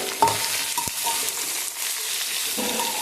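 Onion pieces frying in a pan for chicken rice while a utensil stirs them, a steady sizzle with a few sharp scrapes and knocks near the start, close and moderately loud, no talking.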